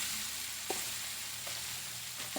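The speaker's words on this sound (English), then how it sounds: "So we're going to saute that for a little bit." Pork loin chops sauté in oil in a pan, giving a constant, even hiss with a few light clicks of a utensil, quiet and close.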